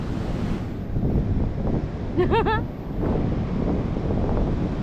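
Ocean waves rush and wash onto a beach in Goa under gusty wind, with a brief voice calling out midway.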